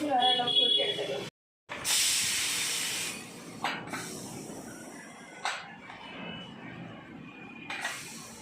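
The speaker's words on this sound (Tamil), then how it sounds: "விசில் போட்டு 4 விசில் வர அளவுக்கு விட்டு எடுத்துக்கலாம்" A pressure cooker holding moong dal and water vents steam for an Asoka halwa, first in a long loud hiss and then in several shorter puffs fading off.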